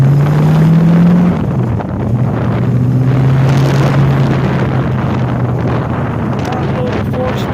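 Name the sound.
1964 Shelby Cobra exhaust and wind noise on test drive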